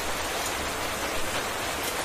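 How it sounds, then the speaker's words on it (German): Steady rain falling in the Minecraft video game, a dense, even hiss of drops that holds at the same level for the whole stretch with no talking. "ist ja hier ein Regen"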